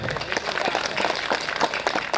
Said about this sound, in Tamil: இங்கே தட்டுங்க பார்ப்போம்